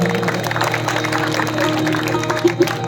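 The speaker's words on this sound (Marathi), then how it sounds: "त्यांचं जोरदार टाळ्या वाजवून स्वागत करा" A crowd at a Marathi bhajan gathering claps to welcome the bhajan singer, a loud, continuous mass of applause mixed with crowd murmur and some musical tones.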